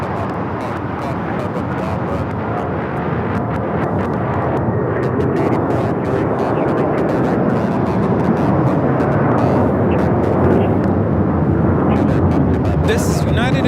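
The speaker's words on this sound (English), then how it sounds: "This is United Airlines 1069 taking off to Chicago on the 757-300." A United Airlines Boeing 757-300 bound for Chicago takes off from LAX with a loud, continuous rumbling jet roar that builds slightly toward the end, while a person talks underneath it.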